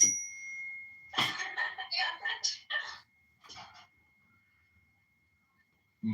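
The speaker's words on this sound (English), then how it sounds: "let me hit the bell for repetition." A single bell strike rings out at the start with a long sustained ringing tone that fades slowly, under a man's close speech.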